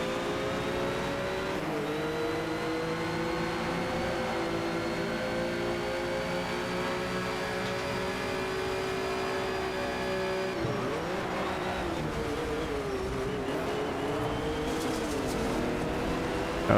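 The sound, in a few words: Ford GT car engine racing, Need for Speed Shift 2 video game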